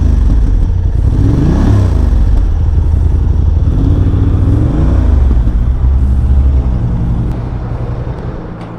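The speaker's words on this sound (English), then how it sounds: "Can you just hit the throttle, just chirp it a little bit?" A 2024 Honda Transalp 750 adventure motorcycle engine revs up and down nearby in loud swelling throttle blips over a rumbling idle, then settles and fades slightly at the end.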